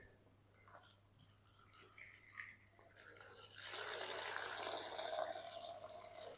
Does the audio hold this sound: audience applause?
no